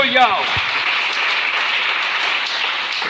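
A church congregation breaks into applause during a French-language sermon, a steady wash of clapping that holds at even loudness for about three seconds, with a brief voice at the start.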